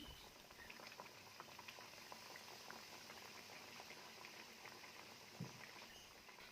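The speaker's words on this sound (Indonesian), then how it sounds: "kita akan menggoreng, minyaknya sudah harus panas." Chicken katsu frying in hot oil gives a steady, dense crackle and sizzle, faint and continuous, with a small louder pop near the end.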